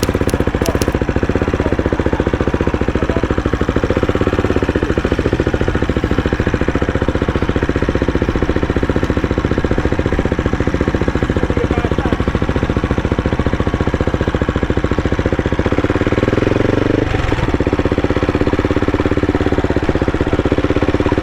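A CCM Tracker British motorcycle being ridden off-road, its engine droning loud and steady with a rapid, throbbing pulse, rising briefly near the end, with no talk.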